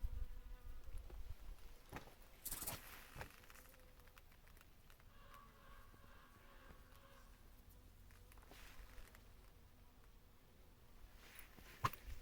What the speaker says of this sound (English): I'm being attacked by killer bees